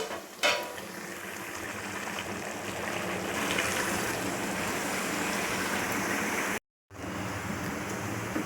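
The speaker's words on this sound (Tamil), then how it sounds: "நல்லா கொதிக்குது" Water for a chicken biryani boils hard in a pot, making a continuous rushing, bubbling roar close by, with a brief clatter near the start and a short gap of silence near the end.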